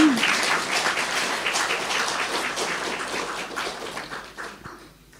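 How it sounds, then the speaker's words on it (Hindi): Clapping from an audience at a spiritual gathering, a steady patter of many hands that gradually fades toward the end. "तो अपने लिए और ताली बजाओ"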